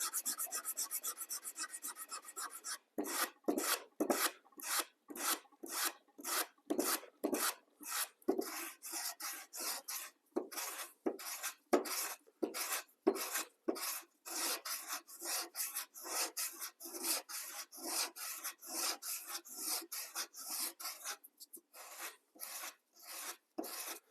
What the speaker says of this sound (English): This can be done with a sander.